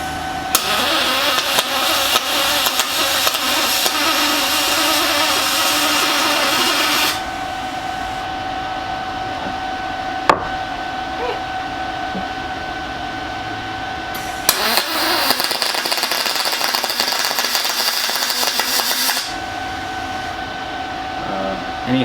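Welder working on a Volkswagen Vanagon frame in a garage, a loud continuous buzzing crackle in long stretches, stopping briefly for a few seconds twice between passes.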